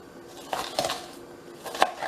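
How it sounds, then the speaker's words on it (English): Knife chopping onions on a cutting board for shrimp and chicken noodle soup, heard as a few irregular close taps spread over two seconds, fairly quiet in a kitchen. "And I don't have a method in which I'm cutting these onions up. I'm just chopping them up"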